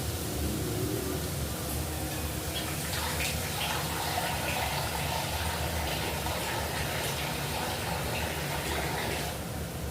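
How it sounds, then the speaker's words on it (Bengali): Water poured into a pan for a fish curry gravy, a steady, continuous rushing hiss of liquid that runs evenly throughout without pause or talk. "এই দেখো বন্ধুরা, আমি ঝোলের জল নিয়ে নিয়েছি।"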